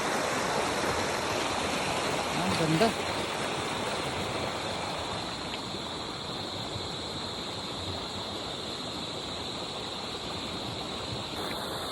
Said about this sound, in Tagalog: ang ganda ng tunog ng agos ng tubig